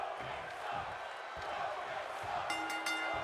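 Wrestling video game arena crowd buzzing and cheering in a steady wash of noise, with a commentator's voice faintly over it and a few sharp higher tones near the end.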